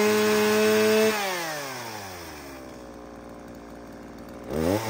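Japanese chainsaw such as a Shindaiwa running near and loud, starting at a high steady whine, then dropping as the throttle eases to a lower rumble and revving up again at the end.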